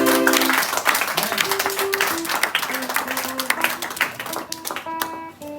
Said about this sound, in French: Est-ce qu'on va acclamer la parole?